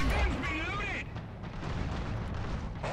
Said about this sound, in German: Ich glaube eher, das ist eine Artillerie, die da hinten irgendwo umgammelt